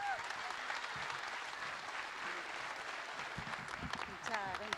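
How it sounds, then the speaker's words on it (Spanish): Audience clapping at a union labor gathering in defense of wage councils, steady applause with voices and shouts mixed in and a louder burst near the end. "Así que un fuerte aplauso a la compañera."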